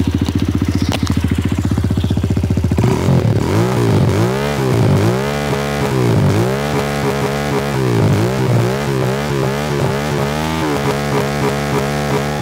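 Flat 200 CRF-style motorcycle with an aftermarket exhaust, idling briefly then revved repeatedly in rhythmic throttle blips, loud and close, with no talk over it.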